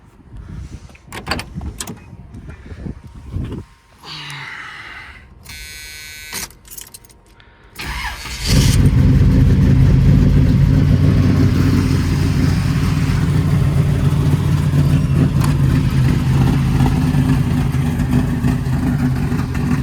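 A car engine turns over and catches, then settles into a loud, steady idle with a deep rumble, after some handling clatter and a door closing.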